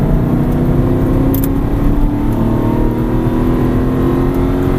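Aston Martin V8 Vantage engine pulling hard on a race track, a steady loud drone that holds throughout with rising harmonic tones, close and continuous with no pauses.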